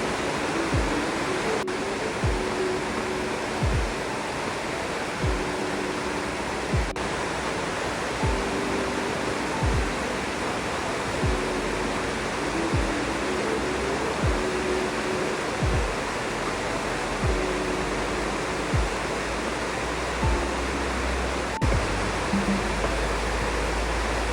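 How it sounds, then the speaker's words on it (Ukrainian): Continuous rushing water from a rain-swollen pond in the Carpathians near Yaremche, a steady broadband roar like a flowing stream or spillway, with faint low thumps recurring every second or so. "Послухайте, як пруд шумить."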